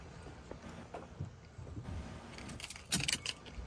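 Keys to a 1969 Pontiac Bonneville wagon jangle and clink close by for a few seconds, with a sharper burst of metallic rattling near the end over faint outdoor car-show background noise.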